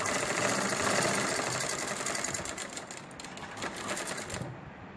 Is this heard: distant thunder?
no